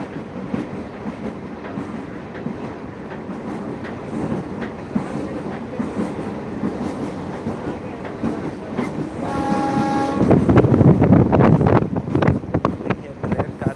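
A passenger train runs along the line from Bajpatti to Muzaffarpur, heard from inside the carriage as a steady rumble with rhythmic clickety-clack, wind buffeting and a louder rattling surge near the end.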